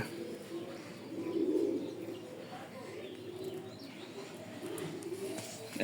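Racing pigeons coo at a dealer's loft, a soft low continuous murmur of several birds with occasional chirps, fairly close and steady throughout.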